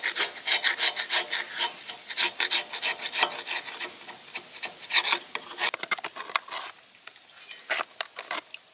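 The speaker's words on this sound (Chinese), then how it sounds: "先把这些铲掉，这些" A scraper rasps repeatedly across a tractor's rotted, leaking gasket, stripping away the old material in quick, close strokes that slow toward the end, with no talking.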